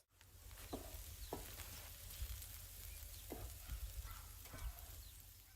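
Spices frying with onion and garlic in a pan on a camping stove for a Malay fish curry, a quiet, steady sizzle with a few soft spoon taps and stirs.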